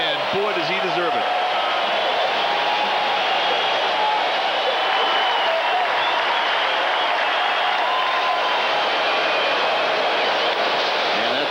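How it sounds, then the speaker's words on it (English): A baseball crowd at 3Com Park in a Rangers vs Giants game applauds pitcher Mark Gardner with a steady, dense roar of clapping and cheering that holds for about eleven seconds, with a brief tonal voice-like sound at the start. "He's getting a nice round of applause from the faithful here at 3Com"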